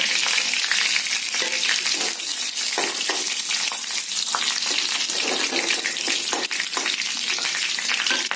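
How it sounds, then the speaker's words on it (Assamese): Steady, loud sizzling of bay leaves, cinnamon, peppercorns, chillies, cloves and cardamom frying in hot oil, with occasional crackles and stirring sounds throughout, no voices. "মছলাখিনি গোন্ধটো অকণমান ভাজিব লাগিব, তেতিয়া তেলত মিলি যাব।"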